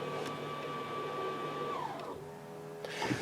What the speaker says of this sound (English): And this way, the brakes go on.